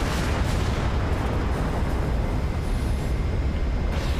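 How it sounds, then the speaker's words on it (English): Explosions in space in the Everspace 2 video game: a dense, continuous low rumble of booming blasts filling the whole stretch at steady loudness, with no distinct separate bangs and no talk. "I don't know if these explosions are doing any damage to me."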